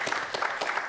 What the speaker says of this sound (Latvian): Protams, ar aplausiem.